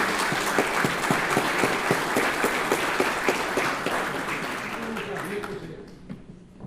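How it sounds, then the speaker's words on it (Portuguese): Audience applause at a formal book launch ceremony, a dense, steady wash of many hands clapping that carries on for several seconds, then thins and fades out toward the end. "por gentileza, uma salva de palmas."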